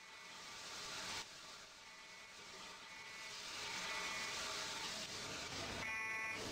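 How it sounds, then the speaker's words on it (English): A fire alarm sounds on a campus in the Emergency 2024 game's Allen County mod, its buzzing tones pulsing on and off over a steady, roaring background hum. "Somebody pulled the alarm."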